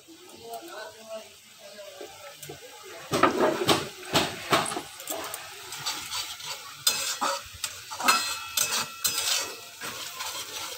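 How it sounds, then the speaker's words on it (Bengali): Spice masala for a Bengali prawn malai curry being stirred in a pan, quiet sizzling at first, then louder rhythmic scraping and clinking of a spatula, with someone speaking alongside. "দিয়ে আবার একটু নাড়িয়ে দেব।"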